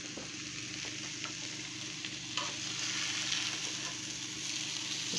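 Steady sizzling of eggs frying in a pan, crackling softly and continuously, growing a little louder midway.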